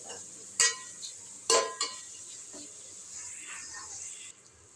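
Curry leaves, dried chillies and ginger fry in hot oil with a soft, steady sizzle, broken by a few sharp clinks and scrapes of a utensil against the pan. Nearby sounds stay quiet and no one speaks.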